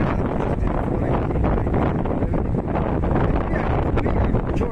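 Strong wind gusts buffet the microphone outdoors in cold weather at Brunate, a steady loud roar with rumbling, rustling texture that never lets up.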